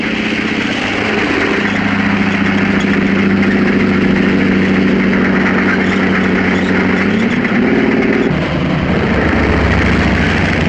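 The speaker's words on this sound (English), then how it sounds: "Our armored vehicles move toward the forward positions." WWII American armored vehicles in North Africa rumble steadily toward forward positions, a loud continuous low engine drone with tonal whine that shifts pitch near the end as they advance.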